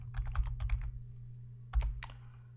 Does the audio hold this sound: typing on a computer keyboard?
yes